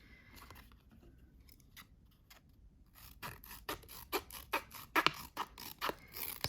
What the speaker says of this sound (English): Let's see how these scissors compare between any medium Swiss Army knife and a